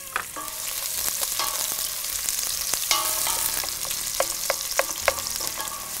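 Chopped onions added to four tablespoons of hot oil and frying, a close crackling sizzle with scattered sharp pops and the clatter of a spoon stirring in the pan, no talking.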